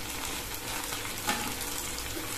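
Idli pieces deep-fry in hot oil with a dense, continuous sizzle and bubbling, steady and close, broken by one small clink midway.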